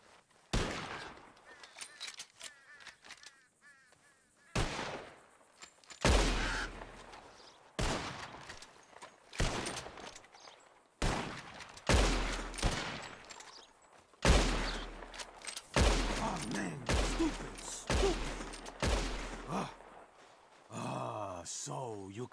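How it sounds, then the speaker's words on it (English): Gunfire shooting birds out of the sky in the video game Red Dead Redemption II, a string of sharp, loud shots fired irregularly over about twenty seconds with faint background sounds between them. "whoever shoots four birds out of the sky first wins"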